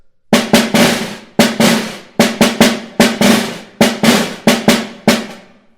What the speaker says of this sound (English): just a buzz on each hand and just pressing into the drum